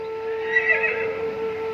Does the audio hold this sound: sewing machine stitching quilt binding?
no